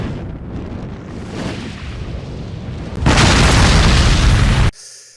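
A rocket launcher explosion in an action movie: a low rumbling buildup, then a loud, broad roaring blast lasting over a second before cutting abruptly to quiet.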